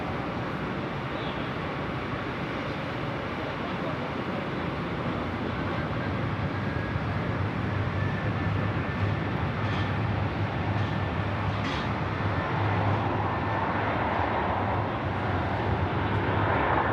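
A plane takes off at night from runway 16 right at Sydney Airport: a steady, broad jet roar that holds for the whole stretch and swells slightly toward the end, with no talk over it.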